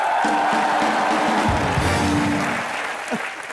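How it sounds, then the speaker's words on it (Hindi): Studio audience on a comedy talk show applauding and cheering, a dense, loud wash of clapping that fades slightly toward the end. "तालियां"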